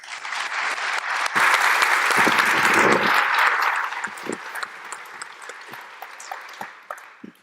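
An audience claps in a strong burst that peaks early, then thins out into scattered, fading claps.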